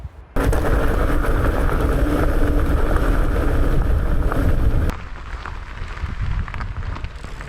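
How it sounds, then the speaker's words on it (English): Loud, roaring wind on the Southern Upland Way in Scotland buffets the microphone with a dense rumble, easing partway through to a lower, gusty rush. "it is so windy"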